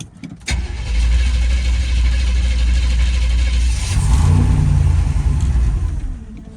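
A car engine cranks briefly, then catches and runs with a loud low rumble, rising in a rev before settling near the end.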